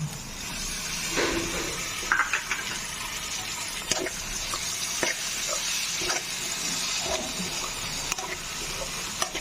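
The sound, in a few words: tomatoes added to frying onions in a pan and stirred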